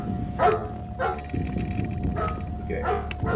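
A dog barks three or four times in a film scene, sharp and spaced about a second apart, under a steady background hum and low voices.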